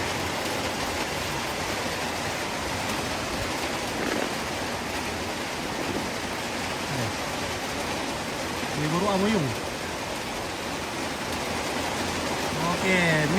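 Heavy rain pours steadily during a funeral at Tongkonan Tella Tondon, a continuous hiss of falling water with people talking underneath.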